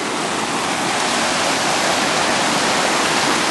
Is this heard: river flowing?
yes